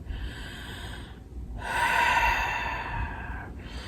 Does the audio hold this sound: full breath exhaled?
yes